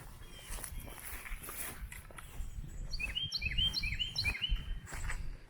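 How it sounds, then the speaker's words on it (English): Outdoors at a settlers museum in Atkins, Virginia, birds chirp in quick repeated high tweets that grow busier midway, with footsteps crunching underneath. "I hear the birds chirping in the background."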